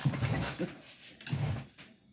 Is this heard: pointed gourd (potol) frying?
no